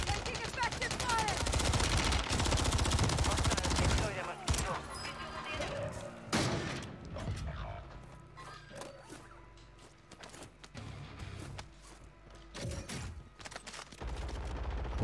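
Sustained heavy automatic gunfire in the video game Call of Duty Warzone, loud and dense for the first four seconds, then scattered sharp shots and bursts with game sounds over the remainder.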